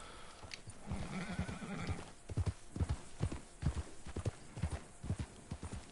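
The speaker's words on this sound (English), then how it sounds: "What's that horse? That's a nice horse." Steady clip-clop of horse hooves trotting at a regular rhythm in the video game Red Dead Redemption 2, with an Appaloosa horse whinnying early on, fairly quiet and without talk.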